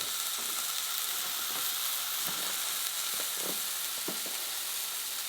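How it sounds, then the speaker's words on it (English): Beef sizzles steadily in a hot pan, a loud continuous frying hiss with brief bursts as meat is stirred or turned, no talking. "When the beef hits the pan, you want to hear the tss"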